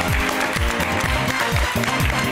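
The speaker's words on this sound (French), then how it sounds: "Allez, on l'applaudit très fort, Lorenzo" Studio audience applause on a French television talent show, a dense steady wash of clapping blended with a thumping rhythmic music beat underneath, loud and continuous throughout.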